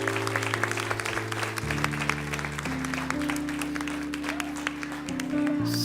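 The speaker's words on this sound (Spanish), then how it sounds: "Denle un fuerte aplauso al Señor en esta mañana" A church congregation at a Spanish-language morning service claps steadily, sustained applause over a low organ or keyboard playing held chords.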